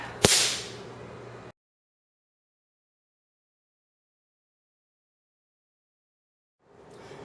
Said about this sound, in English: my fingers are hitting the palm of my hand to give me the sound I need to add that extra shot of realism to a stage punch or slap